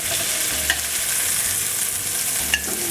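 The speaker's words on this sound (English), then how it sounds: "Let's turn it over. And we'll brown the other side." Chicken pieces brown in a frying pan with a continuous, even sizzle, broken by two sharp clinks of a utensil against the pan, close and steady with no voices.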